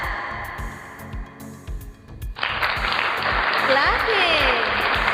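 Sudden burst of clapping and cheering from a crowd joins a rhythmic music track partway through, then stays loud and dense to the end.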